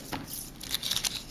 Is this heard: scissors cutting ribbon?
yes